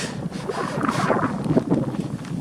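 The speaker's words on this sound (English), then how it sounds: "And there's a tractor coming down the road." Tractor driving down a road past a cemetery, a rough rumbling engine mixed with wind buffeting the microphone, steady and moderately loud with no voices.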